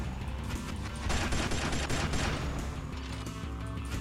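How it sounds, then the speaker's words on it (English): Rapid, loud laser-beam fire from a car in the racing video game Burnin' Rubber 5 HD, a dense continuous burst of shots over engine and game noise. "Wow, laser, a freaking laser beam."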